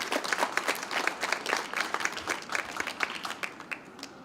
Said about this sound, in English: I want a round of applause, a huge round of applause for everybody